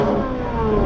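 A Chevrolet LT V8 in a car is revved hard from about 100 feet away, a loud, sustained mid-pitched engine roar with a rising edge, heard alone without talk.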